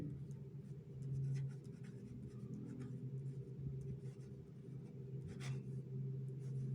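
Chalk or marker writing on a board during a Class 8 compound interest maths lesson, a faint scratchy stroke sound over a steady low room hum with no talking.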